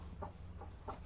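A hen clucking inside a poultry shed, three short soft clucks spaced evenly over a low background hum, faint and close.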